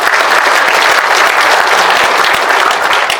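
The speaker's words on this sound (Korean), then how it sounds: "마침 우리 서정갑 회장님 앉아 계시는데 한번 박수 보내주시기 바랍니다" Dense, steady applause from a seated audience at a Korean political lecture, loud and continuous throughout with no voices over it.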